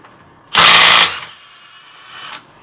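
Milwaukee cordless impact wrench in auto loosening mode on stuck car lug nuts: one loud, close half-second hammering burst that cuts off, then a faint whine and a short final tap.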